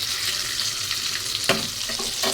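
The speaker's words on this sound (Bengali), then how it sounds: "তোমাদের এই যে ভাজছি এখন" Kofta fry in hot oil with a steady, close sizzling hiss. A few soft clinks of stirring come in the second half.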